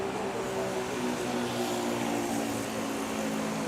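A plane on its takeoff roll at Manila airport gives a steady, loud engine roar with a droning hum, holding even for a few seconds and heard alone.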